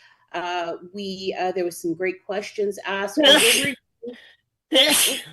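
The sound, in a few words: sneeze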